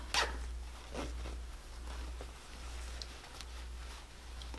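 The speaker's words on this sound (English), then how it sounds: "Then you'll want to go ahead and unzip the zipper to do this." A small sewn fabric bag being unzipped at a sewing machine, a quick, close rasp at the start followed by several softer zipper pulls and faint handling rustles in a quiet room.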